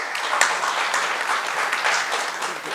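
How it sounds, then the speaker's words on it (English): An audience applauding panel speakers at an industrial AI conference session, sustained mid-sized clapping from a room full of people, loud and continuous. "Shall we give a round of applause for the speakers?"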